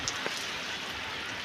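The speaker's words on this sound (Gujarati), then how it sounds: "પણ અહીંયા હાલ વરસાદ ચાલુ છે આપણે ત્યાં બરાબર" Rain falling in Lilapur village, Halvad taluka, a steady soft hiss with a couple of faint drips near the start, moderate and alone with no voices.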